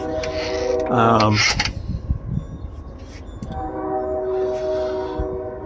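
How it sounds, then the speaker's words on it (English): A train horn sounds loudly with harmonic blasts, followed by the rumble of rail cars passing nearby. "I'm filming a video and the train comes"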